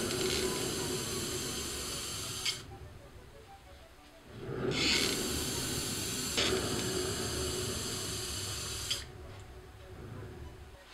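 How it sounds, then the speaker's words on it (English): Tan leather-look brown spray paint hissing from a can onto the top of a handmade shield on a spinning tray, steady loud sprays in several long bursts separated by short pauses. "I'm just going to use this sort of tan leather looking brown spray paint to paint the whole top"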